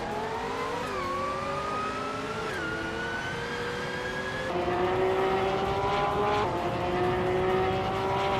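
A Dodge Viper GT2 race car engine in a racing game drones steadily, its pitch sliding up through repeated gear changes at full throttle, loud and continuous with no talk.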